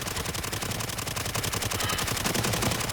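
Rapid automatic fire from a Bizon submachine gun in the mobile shooter Delta Force Mobile, a dense sustained rattle of closely spaced shots running steadily throughout at a loud, even level.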